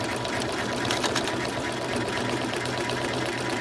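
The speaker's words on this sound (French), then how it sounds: "Je barre ma machine. J'utilise l'enfileur. Et puis, je débarre. Et puis, là, je serai prête à coudre." A freshly threaded sewing machine stitches continuously, a close, steady mechanical whirr with rapid needle rhythm throughout.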